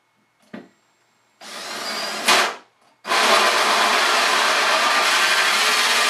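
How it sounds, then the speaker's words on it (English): A power drill boring holes into the bottom of a homemade air hockey table, a short tap followed by two loud sustained bursts of whirring separated by a brief pause, close and unaccompanied. "Next we need to drill the 2 holes in the bottom of the table."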